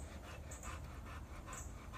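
An old dog panting in quick, steady breaths, close and fairly quiet, with no other sounds.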